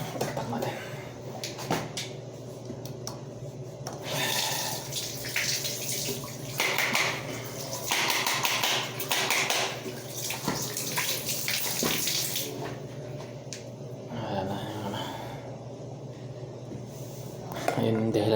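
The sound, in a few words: water running from a faucet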